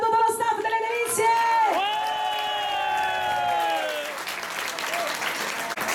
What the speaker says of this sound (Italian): L'applauso ancora a tutto lo staff delle delizie!